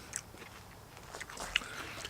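Raw yacon root being bitten and chewed close up, a sharp crunchy bite followed by soft, wet crunching of the watery, crisp flesh, fairly quiet with no talking.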